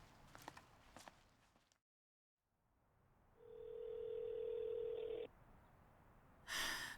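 A telephone rings unanswered in a drama scene, a steady tone holding for a couple of seconds after a brief silence, moderately close, with faint movement sounds before it.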